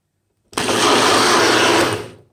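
A blender whirs loudly, blending aloe vera with boiled water in a jug. It kicks on abruptly, runs steady and loud for about one and a half seconds, then winds down.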